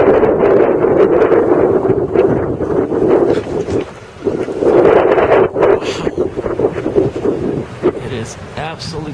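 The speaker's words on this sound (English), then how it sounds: "you can hear the wind. It's like a hurricane." Howling wind from the 2013 Boston blizzard roars steadily and loudly against the microphone, buffeting it with a brief dip before surging again.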